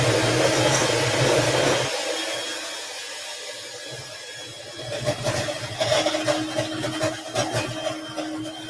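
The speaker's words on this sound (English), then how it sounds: "I'm going in with the beaters again just to mix this in." Electric hand mixer beaters churning low-carb speculoos cookie dough, a steady motor whine for about two seconds, then quieter with clattering and knocking of the beaters against the bowl toward the end.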